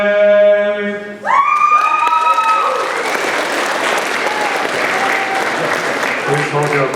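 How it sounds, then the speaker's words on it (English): At a Veterans Day assembly, a crowd breaks into loud, sustained applause right after a final held sung note, the clapping dense and steady until it thins near the end. "Please hold your applause."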